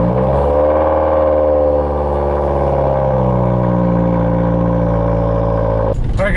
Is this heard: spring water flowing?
no